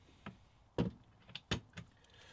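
A drop-down shelf door on the cooker unit of a Nissan NV200 campervan conversion is handled, giving several quiet knocks and clunks of the door opening and settling, spaced unevenly against low background noise.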